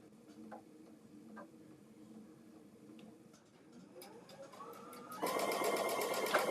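A home sewing machine stitches a fabric Christmas tree coaster, starting with soft, sparse ticks and whirs, then running up into a fast, continuous, louder buzz for the last second or so.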